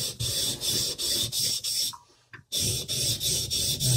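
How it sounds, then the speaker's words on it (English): Rhythmic rasping strokes of a wide knife bevel being rubbed back and forth on a sharpening stone, about eight close scrapes, a brief pause, then the strokes resume. "keep my fingers over the knife, on the stone, pressing on the bevel"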